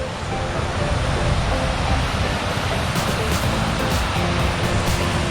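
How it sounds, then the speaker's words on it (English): Heavy rainwater rushes down a mountainside in the UK during a Three Peaks challenge, a loud, steady broadband roar with no breaks, close by, with wind gusts mixed in. "There's a serious amount of water coming down there"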